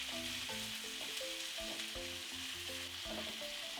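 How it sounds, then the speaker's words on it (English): Diced yellow onions fry with chunks of pork in a pot, a steady, close sizzle with small crackles and occasional stirring clinks. "Let the onions just so slightly sweat and just get some color."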